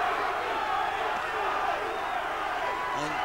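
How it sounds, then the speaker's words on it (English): A boxing crowd roars steadily throughout the Johnny Tapia vs. Hugo Soto WBO super flyweight fight, a dense, unbroken wash of cheering and shouting with a commentator talking over it. "there is Johnny inciting the crowd again"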